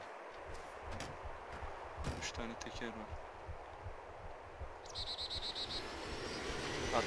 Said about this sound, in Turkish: Helikoptere binip atıyorum.